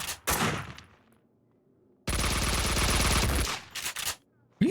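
Gunfire in the video game Max Payne 2: a short loud burst, a pause, then a sustained rapid automatic volley lasting about two seconds, followed by a few more shots, all close and loud.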